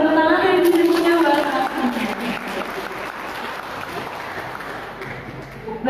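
A seminar crowd claps loudly and steadily, the applause rising after a voice at the start and then slowly tapering off.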